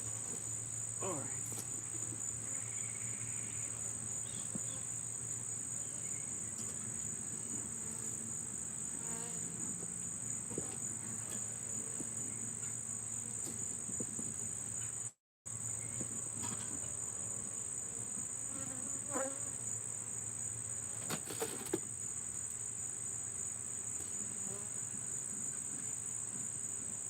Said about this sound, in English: These bees refuse to let go right now.